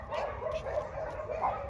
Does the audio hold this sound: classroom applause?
no